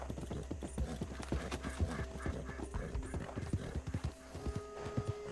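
A horse's hooves clip-clop in a fast, steady rhythm while being ridden, the beats close and distinct throughout.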